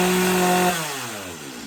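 A warm Stihl MS250 chainsaw, restarted without choke and tuned a little rich, runs loud and close with a steady engine drone. After under a second the engine winds down and fades away.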